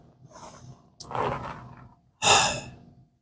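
A person yawns during a lecture, a drawn-out breathy exhale with a gasping intake, heard up close in separate long breaths with short gaps of quiet.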